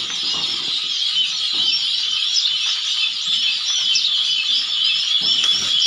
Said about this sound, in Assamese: এইটো হৈছে গিনি ফলৰ পোৱালি।